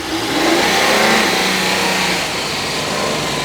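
A car drives at about 50 mph with a heavy vibration, its engine droning steadily with a slight swell in the first second, loud and close from inside the cabin with no talk.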